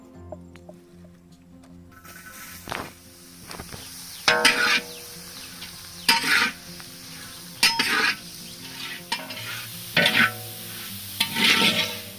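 Fish head frying in a hot kadai in an Odia village kitchen, with a steady sizzle broken by repeated scraping stirs of a ladle against the pan, close up and with no voices.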